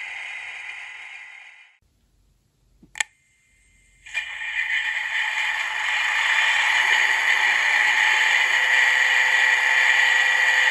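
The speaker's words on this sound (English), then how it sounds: "the sound was taken from an actual mechanical reefer just like this, and it's being reproduced" Refrigeration unit sound on an N scale model mechanical reefer car, reproduced by a Soundtraxx decoder: a steady whirring hum fades out, a click and brief silence follow, then the hum restarts and runs continuously.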